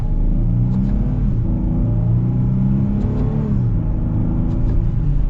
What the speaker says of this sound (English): let's get our full-blown acceleration here in the manual mode